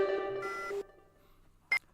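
A comedic time phone powers up: a brief electronic tone cluster fades into a low hum, then one short sharp beep sounds. It is quiet and has no talk.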